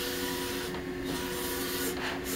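An HP DesignJet 500ps large-format inkjet printer lays down ink line by line. Its carriage gives a steady close mechanical whir, with two brief swishing passes and no voices.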